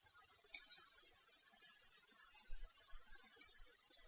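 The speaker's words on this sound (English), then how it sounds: "I'll right click as usual, then click hyperlink." Two pairs of light, crisp computer mouse clicks, a right-click then a click on a menu item, sounding close and quiet against a near-silent background.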